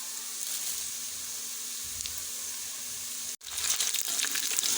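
Minced meat hits onions already frying golden brown in a pan, giving a steady close sizzle that briefly cuts out and then returns stronger and brighter as the keema lands in the hot oil.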